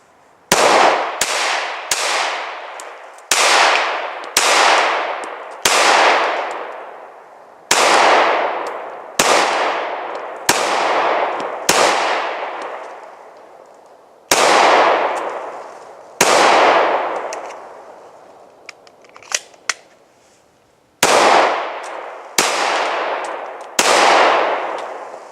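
A magazine is emptied into a rubber training dummy: about fifteen loud, close gunshots at irregular intervals of one to three seconds, each ringing out in a long echoing decay.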